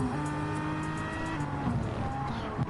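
Race cars in a sim racing game drone steadily with layered engine tones and some tire squeal, a continuous, fairly loud mix with no talking over it.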